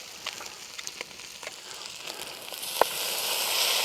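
Pan of braised barbecue beans deglazed with half a red ale, a soft crackling sizzle with scattered pops that grows into a steadier hiss toward the end, fairly quiet and with no talking.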